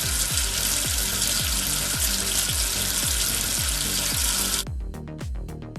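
Water rinses soap off a number in a children's tracing and counting game: a continuous spray-like gush over a rhythmic, bouncy backing tune. It stops abruptly near the end, leaving only the music.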